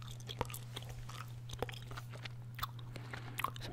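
Gum chewing right up against the microphone, wet smacking and crunchy bites in an uneven rhythm over a low steady hum, with no talking.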